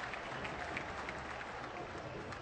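Football crowd in the stadium during a Flamengo versus Náutico match, faint, distant applause and murmur forming a steady, even wash of sound with no single claps standing out.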